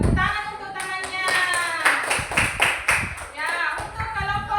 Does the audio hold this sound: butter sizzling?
no